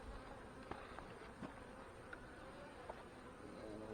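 Honey bees hum in an opened fireweed hive, a dense steady buzz of many insects heard close and soft, with a few individual bees droning past, no talk.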